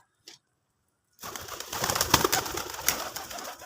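Domestic pigeons cooing close by, soft repeated throaty coos over a steady rustle after a brief quiet start, with no talk.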